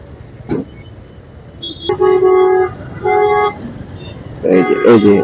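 A jammed Dhaka street with buses and cars: several sustained horn blasts, some overlapping and some repeated, sound close over a steady rumble of engines and traffic.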